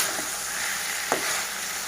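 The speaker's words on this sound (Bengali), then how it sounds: "আমি ভালো করে ভেজে নিয়েছি।" Meat frying in oil in a pan for a yogurt meat curry gives a steady close sizzle, with one brief scrape of stirring partway through.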